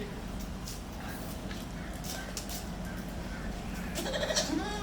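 A young goat kid bleats a few times near the end, its wavering cries rising over a steady low background noise.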